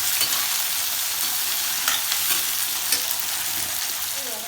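Onion and curry leaves sauté in a hot pan for a Tamil vathal kuzhambu, giving a steady, close sizzle and crackle throughout with a few light stirring scrapes and no talking.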